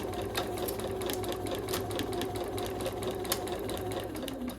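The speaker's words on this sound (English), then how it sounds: "I'm going to start on one end and sew and turn the corner" A sewing machine stitches steadily through a cotton tote bag, its fast rhythmic whir running continuously and close up with no talking.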